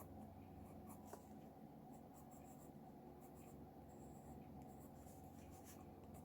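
A pencil scratching across paper while sketching tree branches, a continuous close, soft scraping with small irregular strokes over steady low background noise.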